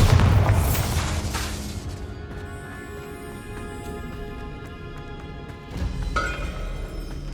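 A Bombarda spell blast booms loudly in Hogwarts Legacy, its deep rumble decaying into a sustained roar before a second, sharper crash erupts near the end.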